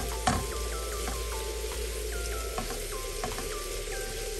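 Onions and garlic sautéing in a pan with dried manathakkali berries for a Tamil vathal kuzhambu, a soft steady sizzle with faint scattered crackles and occasional light clinks.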